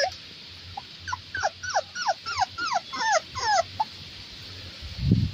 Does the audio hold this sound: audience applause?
no